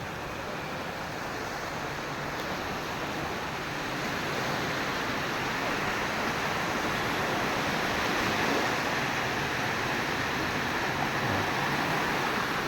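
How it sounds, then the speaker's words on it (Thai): Continuous wash of gentle evening sea waves, a broad steady roar that swells slightly, with no voices. "ฟังเสียงคลื่นทะเลอ่าน่าเล่นน้ำหน่อย"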